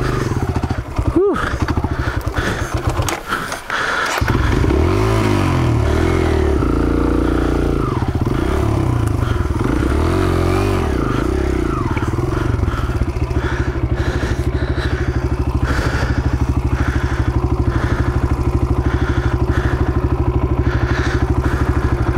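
Dirt bike engine running and revving on a 4x4 trail, loud and close throughout, with clattering thumps and scrapes over rough ground and a few brief wind-buffeted breaths early on.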